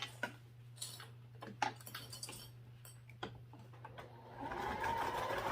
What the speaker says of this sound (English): So I'm going to sew across real quick.